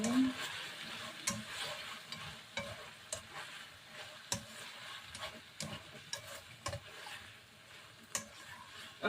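Pechay stir-fried in a pan, with soft sizzling and frequent scraping and clinking stirs that come in irregular bursts up close.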